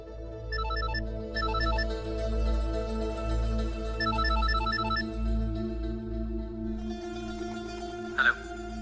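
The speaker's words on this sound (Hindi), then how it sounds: "आप फोन तो उठा लो।" A telephone ringtone plays in repeated melodic bursts over a low steady hum, pausing briefly between phrases, with a short sharp knock near the end.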